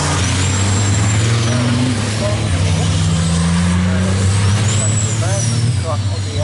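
Racing trucks pass on a race track, their loud, close engine roar sustained throughout, with rising and falling pitch from passing vehicles and a commentator talking over the noise.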